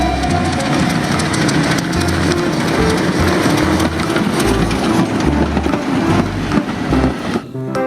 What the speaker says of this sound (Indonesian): Lihat teman-teman, di sini ada kereta api.